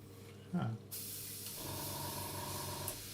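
A steady airbrush hiss sprays continuously for a few seconds while painting a sky on a scale model, after a brief low voice near the start.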